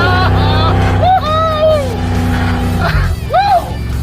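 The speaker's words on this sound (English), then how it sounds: "it does good burnouts for something with absolutely no engine left" A 1966 Ford Econoline van with almost no engine left does a burnout, its loud, steady engine drone and tire roar continuous throughout, with voices and shouts rising over it.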